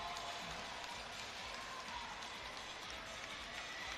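Crowd of fans cheering and applauding steadily for swimmers being walked out for an A final at an age group swimming championship in Orlando, a dense, continuous roar filling the pool hall without letup.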